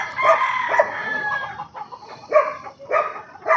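An imported gamefowl rooster, a young stag, crows and clucks nearby in a series of loud, ragged bursts separated by short pauses, with no other sounds competing.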